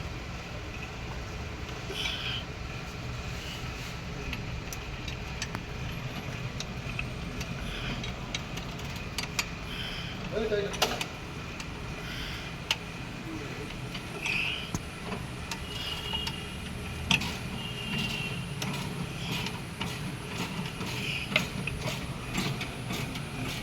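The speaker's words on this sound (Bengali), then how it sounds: "লে বোল্ট খোলা হচ্ছে এখন গিয়ার বক্সের" Ratchet wrench clicking as bolts come off a car gearbox during clutch repair, faint intermittent mechanical ticks against steady workshop background noise.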